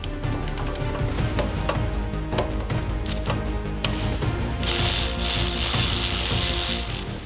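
An 8mm Allen key on a ratchet backs out the transmission fill plug of a Land Rover LR3/LR4/Range Rover Sport, giving a close, steady run of rapid ratchet clicks with a brighter, busier stretch near the end.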